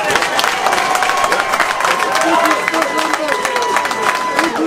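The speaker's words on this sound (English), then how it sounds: "Round of applause for SK," A boxing event crowd cheers and applauds the winner of a main-event bout, a loud, continuous roar with scattered shouts and whistles filling the hall, while an announcer's voice carries over it.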